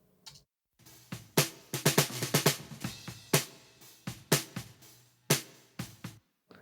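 Bottom-microphone snare drum track on its own: a run of sharp, dry hits with snappy rattle, some in quick clusters and others spaced out, fairly close and moderately loud with no voices.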